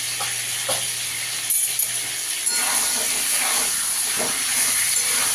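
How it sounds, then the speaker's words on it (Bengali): Pointed gourd frying in white oil with turmeric and salt makes a loud, steamy hiss with bursts of stirring scrapes, the sizzle swelling partway through as the pan is worked. "হলুদ দিয়ে পটলটাকে একটু ভালো করে ভেজে দেবো"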